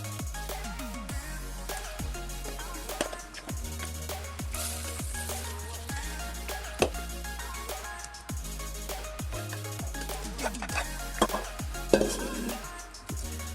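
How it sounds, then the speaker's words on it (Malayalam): Cooked chicken tipped into bubbling curry gravy and stirred, giving repeated close scrapes and knocks of a spoon against the pot over a steady low simmer, with no talking. "നമ്മുടെ തിളച്ചുകൊണ്ടിരിക്കുന്ന ഗ്രേവിയിലേക്ക് നമുക്ക് നമ്മൾ വേവിച്ച് വെച്ചിരിക്കുന്ന ഈ ചിക്കൻ ചേർത്ത് കൊടുക്കാവുന്നതാണ്"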